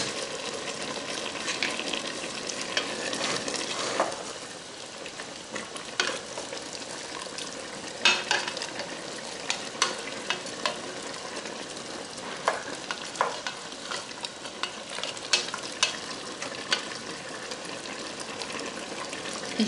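Quail tagine with onions simmers in a pot with a continuous soft sizzle and bubbling, punctuated by occasional clinks and stirring scrapes, close and moderately quiet, with no talking.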